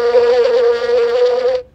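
A single sustained insect buzz in the style of bee sound effect, loud, close and steady, droning for under two seconds before cutting off abruptly.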